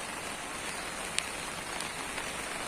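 Faint, steady hiss of rain falling, with a couple of brief drip-like ticks and no voices.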